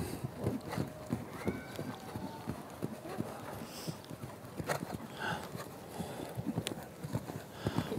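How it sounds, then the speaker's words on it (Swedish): A horse cantering in a balanced gallop during a riding clinic lesson, its hoofbeats a steady three-beat clip-clop running the whole time at moderate distance, with faint speech from a trainer in the background. "Låter hästen få gå i en balanserad galopp"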